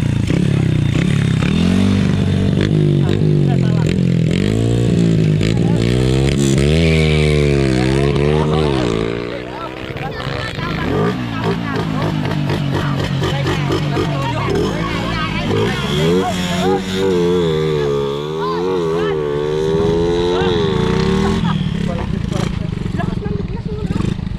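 A motorcycle engine runs steadily and loudly up close, its pitch rising and falling as it revs, with people talking over it throughout.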